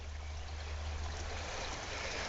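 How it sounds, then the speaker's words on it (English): Steady, fairly quiet water flows in from the C&O Canal beside a towpath near a collapse, forming a continuous rushing wash with no talk. "we can hear water flowing in from the canal in that direction."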